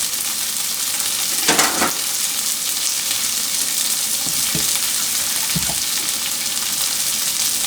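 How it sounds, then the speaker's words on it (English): Soy sauce and honey sizzling in a pan with chicken on the stove, a loud steady frying hiss broken by a few brief clattering stirs and scrapes, no one talking. "soy sauce and honey on the stove"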